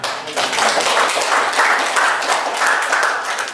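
Applause from a church congregation during a Sunday worship service in Indonesia, a steady, dense wash of clapping that runs throughout and rises slightly toward the middle.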